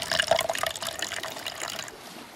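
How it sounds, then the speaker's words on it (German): Freshly tapped petrol pours in a video game, a continuous close splashing, trickling stream of liquid that stays fairly steady for a couple of seconds and fades slightly near the end. "Aber gibt jetzt frisch getapptes Benzin."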